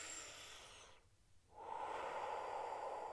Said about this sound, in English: slow, deep breathing